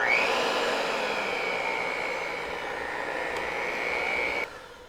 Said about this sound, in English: Now we're going to start the mixer on slow so that I don't end up wearing all this flour.